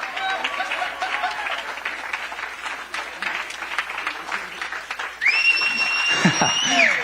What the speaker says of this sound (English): Everybody make some noise, clap, till I'm done drinking water.